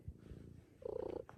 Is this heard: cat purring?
yes